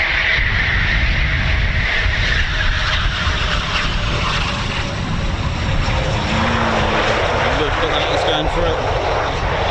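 A Eurofighter Typhoon FGR4 jet landing at RAF Coningsby during an evening flying show gives a loud, steady engine roar that fills the whole stretch without easing off.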